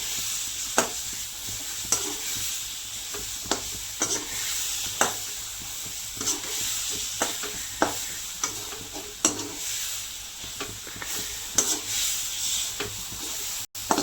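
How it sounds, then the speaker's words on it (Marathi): Spoon stirring and mixing eggplant bharit in a pan, with regular scraping strokes roughly every second over a constant soft sizzle, close and steady with no talking. "चांगलं मिक्स करून घ्यायचं, म्हणजे आपल्या भरताला चव चांगली येते."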